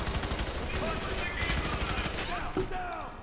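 Rapid automatic gunfire from the video game F3AR, loud dense bursts filling the clip alongside other game sounds.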